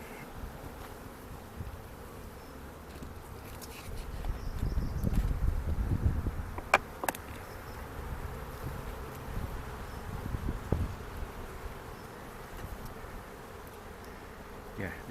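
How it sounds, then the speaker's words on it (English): Honey bees buzz steadily around an opened beehive outdoors, a continuous low drone that swells for a few seconds in the middle with a few brief knocks and rustles. "The bees can go down there, go out through there, and out through these two ends, but they won't go back up."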